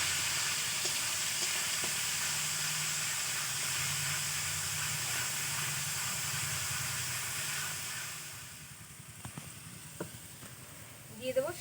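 Ground paste of ginger, garlic, onion, tomato and green chili sizzles steadily in hot oil, a loud continuous frying hiss that fades toward the end, leaving faint stirring clinks.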